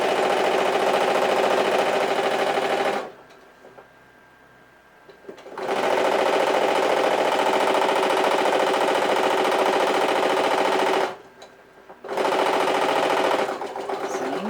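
A sewing machine stitches a purse in loud, fast, close runs of rattling needle strokes, stopping twice briefly for turns before starting up again.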